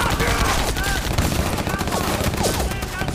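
Rapid gunfire rings out in a war drama battle in a valley. Repeated close shots crack over a noisy, dense background, with voices shouting through the fight.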